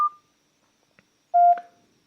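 A Nokia 5310 feature phone gives short electronic keypad beeps while switching into airplane mode: one brief tone, a faint tick, then a longer, louder beep, close and clear in near silence.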